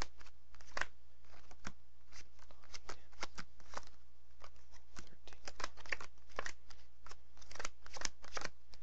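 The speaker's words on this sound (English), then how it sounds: "you deal down exactly 20 cards" Playing cards being dealt down one at a time from a packet for a self-working magic trick, a quick, steady series of close, soft snaps and flicks with no talking.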